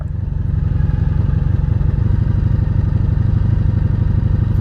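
A 1983 Honda Sabre VF750S motorcycle heard while riding, its V4 engine giving a loud, steady low rumble with a rapid, even pulsing throb that holds throughout.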